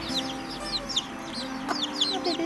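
Hens cluck softly and repeatedly while foraging with their young chicks in an organic forest garden, a steady run of short, close calls with faint chick peeps mixed in.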